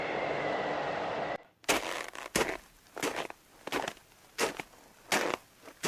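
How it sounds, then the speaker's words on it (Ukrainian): Footsteps crunch and creak through snow in a steady walking rhythm of crisp, close squeaks, following a brief stretch of windy noise at the start. "Так рипить сніг під ногами."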